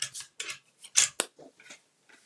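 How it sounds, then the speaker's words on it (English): A paper guillotine chopping and trimming cardstock for handmade cards: a series of short, sharp slicing snips and clacks in irregular rhythm, close and clear with quiet gaps between cuts. "Going to bring in my guillotine and just chop this off and trim it down."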